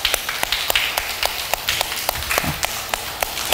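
A crowd claps hands during a talk on faith, a steady patter of many sharp, close-up claps that keeps up for a few seconds with no voices over it.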